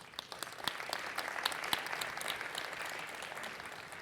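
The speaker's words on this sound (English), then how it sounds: "Give yourselves a round of applause." A conference audience claps steadily for a few seconds at a RustConf talk, a dense, even patter of applause heard from some distance in a large room.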